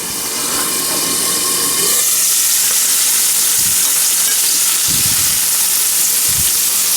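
Salmon pan-fries alongside wilting spinach in a loud, continuous sizzle with dense hissing spatter and a few dull low knocks from the pan. No talking is heard.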